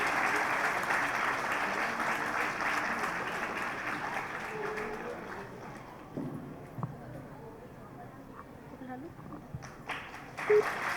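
An audience claps at a college Independence Day cultural programme, loud at first and thinning out, with some voices and stray sounds as the clapping dies down.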